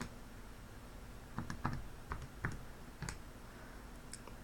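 Buttons on a calculator are pressed to enter a function, giving a few faint, scattered clicks over a quiet background hiss.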